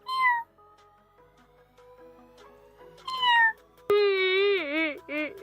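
A person imitates a cat with a series of voiced meows, a short one at the start, another around three seconds, then a long wavering meow with a quick extra one, close and fairly loud over a quiet room.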